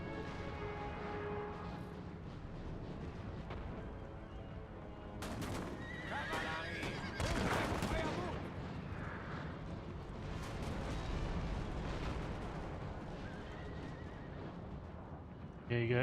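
Cavalry horses whinny and neigh during a Napoleon Total War battle, repeated neighs mixed with dense clattering, booming gunfire and explosions, all loud and continuous across the scene.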